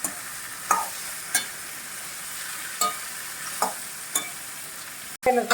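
A spatula scrapes and stirs tomatoes and bottle gourd in a pan with a steady low sizzle underneath, sharp scraping strokes recurring every second or so, close by.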